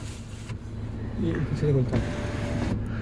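The electric sunroof of a Mahindra XUV 300 hums open with a steady motor whine inside the car cabin, while someone speaks Hindi over it.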